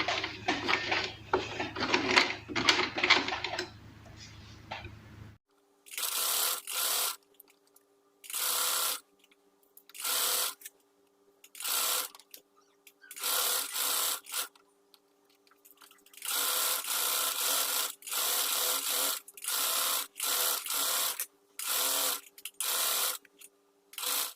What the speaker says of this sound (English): Now just keep your margin and start stitching.